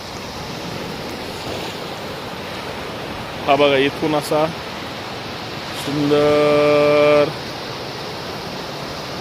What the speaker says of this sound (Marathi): समुद्राच्या एक वेगळ्या टोकावर आलं